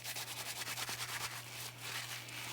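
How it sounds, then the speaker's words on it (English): Soap being rubbed by hand inside wet felted wool, a close, continuous soft scrubbing with repeated brushy strokes and a steady low hum underneath. "the longer you rub it, the more felted it becomes"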